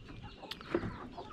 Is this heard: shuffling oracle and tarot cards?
no